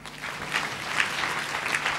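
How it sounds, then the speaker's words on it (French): Steady applause from a church congregation during a French-language sermon, a dense wash of clapping that holds for the whole stretch without talk on top. "Applaudissons encore une fois"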